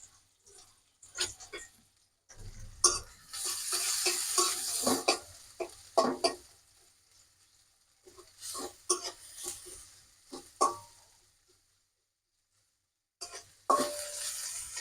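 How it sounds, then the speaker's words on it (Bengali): Chopped onions fry in hot oil for beresta, crispy fried onion for halim, giving bursts of sizzling crackle broken by stirring scrapes and short quiet gaps. "পেঁয়াজ কুচি দিয়ে আপনার পরিমাণ মতো বেরেস্তা তৈরি করে নেবেন।"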